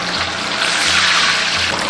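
Black tofu made from eggs slides into hot peanut oil and deep-fries with a loud, steady bubbling hiss that roars evenly throughout, close up.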